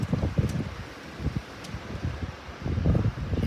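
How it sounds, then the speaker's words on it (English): Strong winter wind gusts through residential yards in Pittsburgh, Pennsylvania, a rough, rushing roar with bursts of rustling and buffeting against the microphone, rising and falling across a few seconds. "Crazy wind in Pittsburgh, PA."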